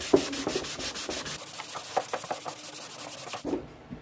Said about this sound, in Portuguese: a gente simplesmente só vem com a lixa 150 e acerta